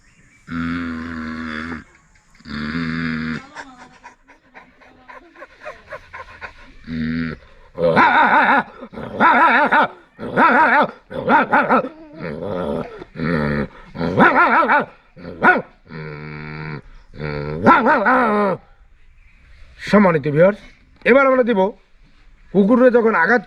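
A man vocally imitates dogs fighting, alternating loud growls, snarls and barks in a steady run of rough bursts for over twenty seconds.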